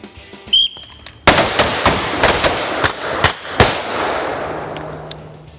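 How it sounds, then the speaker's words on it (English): Loud, close AR-15 rifle shots crack out during an outdoor shooting drill, a rapid irregular string of sharp reports with ringing decay after a brief click. "One shot, one perfect shot from the low or depressed muzzle."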